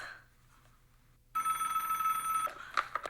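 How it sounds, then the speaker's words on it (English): A telephone bell rings once, loud and sustained for about a second, then clicks and cuts off after a quiet stretch of room tone. "suffering every time that phone rings"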